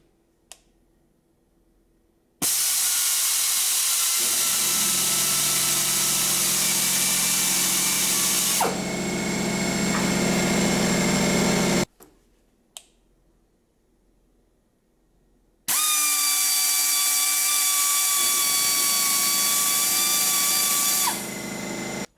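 High-torque, low-RPM air-powered die grinder on a compressor at about 140 psi, running in two long loud bursts of steady whine with shifting tones, each starting and stopping abruptly, with a brief click between runs.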